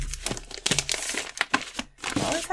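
Plastic bag packaging crinkling and rustling up close in loud irregular bursts, with short pauses between handlings and no talking.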